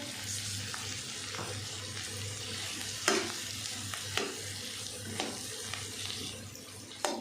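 Cabbage stir-fried in a pan for chicken fried rice gives a soft, continuous sizzle, with a few sharper scrapes and knocks of the spatula, close by and fairly quiet.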